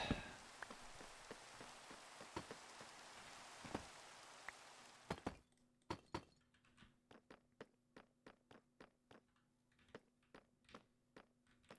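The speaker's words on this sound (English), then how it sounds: "Don't like the rain." Rain patters steadily on a surface for about five seconds, then thins to scattered, distinct drops falling at irregular intervals in a quiet space.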